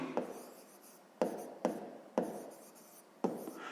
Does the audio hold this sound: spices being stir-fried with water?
no